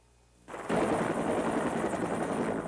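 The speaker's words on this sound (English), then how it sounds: "Marine helicopters brought Mr. and Mrs. Reagan back from their Santa Barbara ranch" Marine helicopter landing, bringing a presidential party back from a Santa Barbara ranch, a loud, steady roar and rotor wash that comes in abruptly and holds close and dense to the end, with no talk.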